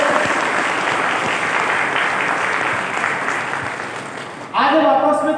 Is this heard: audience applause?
yes